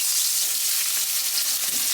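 Onions frying and sizzling steadily in hot oil in a pan while a curry is cooked, a continuous close crackle with no talking.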